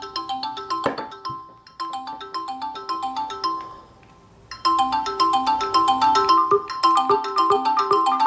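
A melodic voice call ringtone on a Galaxy S5 clone phone plays a repeating electronic tune in short bursts, pausing briefly before resuming louder and fuller.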